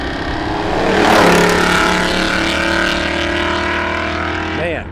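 Project car Huck on new tires and wheels accelerating from a standstill toward 60 mph, the engine rising to a loud, strained drone heard from inside the car and holding steady as it pulls.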